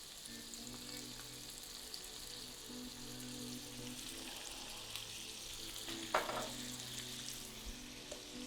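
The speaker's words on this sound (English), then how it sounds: "So I'm going to lay it down in the pan, and we're going to cook them until they just turn pink." Shrimp cook in a pan with a little sesame oil, giving a soft, steady sizzle with faint crackles. A brief clatter comes partway through, and there is no talking.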